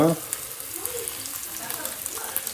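Veal sizzling as it sears in very hot olive oil, a steady crackling fry with small pops, fairly close and moderately loud, with no talk over it.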